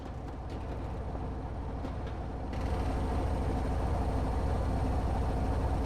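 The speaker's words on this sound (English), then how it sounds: "It's the engine room." Ship engine room machinery in the game Marauders, a steady low mechanical rumble and hum that thickens and grows slightly louder partway through, with no talking.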